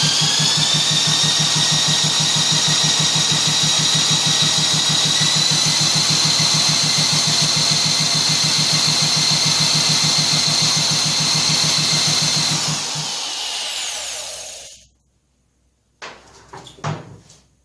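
Small single-cylinder engine of a 1959 Mitsubishi Silver Pigeon scooter idling steadily after a carburetor cleaning, a close, loud, even putter that runs for about thirteen seconds before dying away, followed by a few faint knocks.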